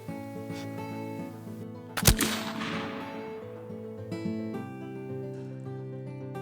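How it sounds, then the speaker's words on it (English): A black powder muzzleloader loaded with 4F powder fires once outdoors while turkey hunting, a loud close blast followed by a long rolling decay into the woods. "We each touched off a couple of shots before hitting the woods."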